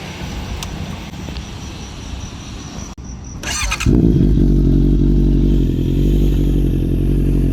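A motorcycle rides by on a road. Quieter traffic and clatter give way to a sudden, loud, close engine rumble that swells in and stays strong to the end.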